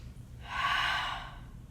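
A single audible exhale during a Pilates exercise, a soft breathy rush that swells and fades over about a second against quiet room noise.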